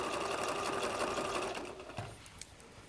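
A sewing machine stitches an invisible zipper in a dense, loud, steady mechanical chatter for about a second and a half, then slows and stops, leaving a few soft clicks and handling noises.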